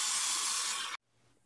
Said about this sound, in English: now you'll want to grab a muffin tin and spray it with some cooking spray.